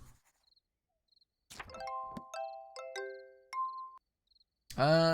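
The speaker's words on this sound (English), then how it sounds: "The silver bell-shaped flower also produces a mellow sound like that of a bell." Soft chiming tones from a silver star bell flower in the video game Little Witch in the Woods ring out in a short sequence of clear, bell-like notes, with tiny tinkling sounds between and a brief voice-like burst at the end.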